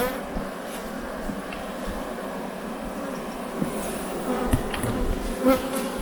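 Honeybees pour out of an opened beehive during a winter-preparation inspection at a Korean honey farm, making a dense, steady, close buzzing drone that fills the whole stretch with scattered louder swells.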